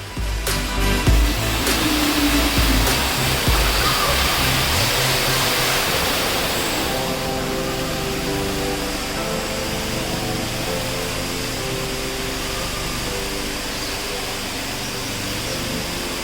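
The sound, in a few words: indoor waterfall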